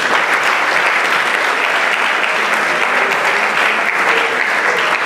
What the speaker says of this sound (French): on va associer des applaudissements pour Olivier Larguier.